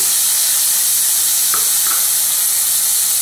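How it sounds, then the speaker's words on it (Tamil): Chopped tomatoes sautéing in a pan with onions and curry leaves for a tomato sambar, giving a steady loud sizzle with a few brief stirring scrapes, heard alone without talk. "இப்போ கட் பண்ணி வச்சுருக்க தக்காளி போட்டுக்கோங்க"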